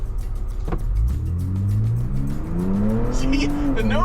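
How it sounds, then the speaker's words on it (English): A 2022 Ford Bronco Raptor accelerates hard off-road, its engine note climbing steadily in pitch over several seconds, loud and close, with a driver talking over it. "If you look ahead, I'm going to accelerate"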